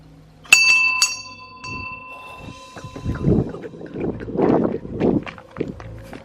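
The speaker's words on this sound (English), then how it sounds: "I'm gonna go ring the bell now" A house doorbell rings at night with one bright chime that rings out and decays, followed by soft footsteps and shuffling close by.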